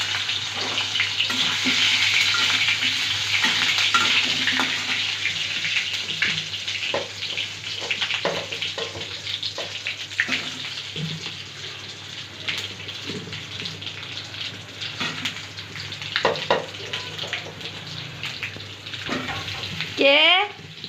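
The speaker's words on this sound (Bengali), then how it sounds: "এই যে গোস্তগুলা বাজতেছি" Meat frying in oil in a wok on a home stove, a steady close hiss running throughout with some clatter and a voice talking over it.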